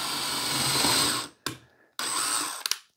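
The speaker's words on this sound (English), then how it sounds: "a big pro tip is going to be screwing in two pilot holes on the same side" A power drill bores pilot holes into an infrared sauna bench frame: a loud whirring run of just over a second, a brief pause, then a second burst ending in short ratcheting taps.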